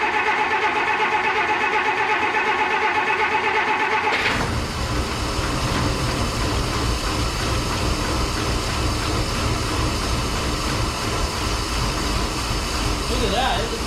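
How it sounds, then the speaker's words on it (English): An abandoned 1953 Plymouth Cranbrook engine, unrun for over 25 years, catches on fuel drawn through the carburetor after a steady mechanical hum, then settles into a loud, continuous running rumble close by. "Look at that, it just fired up by itself, sucking fuel through the carburetor."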